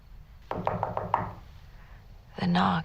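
Knocking on a door inside a house, a quick run of about five firm raps, then a pause before a voice is heard briefly at the end.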